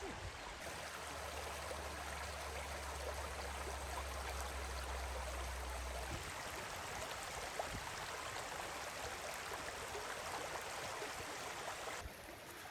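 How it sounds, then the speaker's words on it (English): Water flowing in a stream at Salt Springs State Park makes a steady, dense rush and babble that holds at an even level throughout, with no voices. "I like the way the water flows."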